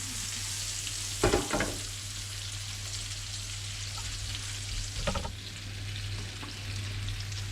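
Garlic sizzles in butter with mushrooms in a hot pan, a constant crackling fry broken by two brief louder bursts of stirring or spattering, with no voices.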